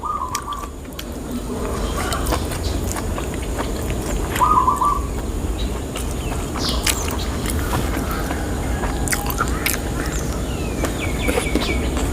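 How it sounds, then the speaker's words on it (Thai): Scattered bird chirps and short whistled calls sound from a distance over a steady outdoor hiss, sparse and faint rather than continuous song. "เสียงนกเสียงไม้"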